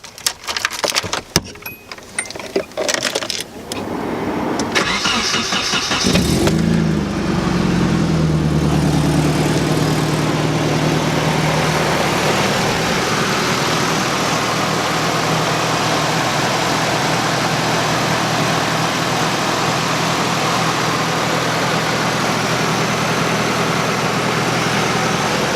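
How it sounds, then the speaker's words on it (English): A race car with no clutch is cranked and fired up, catching after a few seconds of irregular starter bursts, then settling into a steady, loud, low idle that holds throughout with no talking. "when I started the car there, the whole car shook a little bit just when it started"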